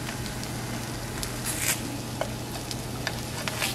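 Bacon sizzles and crackles in a pan, a steady hiss with scattered faint pops.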